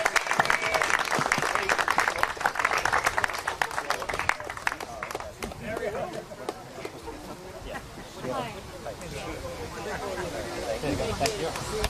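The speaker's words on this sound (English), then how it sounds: "Let's have a big round of applause for Barry." Sustained audience applause at a club's 40th anniversary party, dense clapping from a crowd that holds steady for several seconds and then thins, with voices and cheers underneath.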